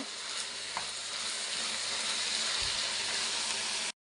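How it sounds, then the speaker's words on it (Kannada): Tomatoes fry in hot oil for a Karnataka-style vegetable sajji, giving a steady, close, fairly loud sizzle throughout with a brief stir or scrape partway through and a sudden cut-off at the end. "ಇವಾಗ ನಾನು ಟೊಮೊಟೊ ಹಾಕೋತಾ ಇದ್ದೀನಿ ಇದು ಅಷ್ಟೇ ಚೆನ್ನಾಗಿ ಫ್ರೈ ಆಗಬೇಕು"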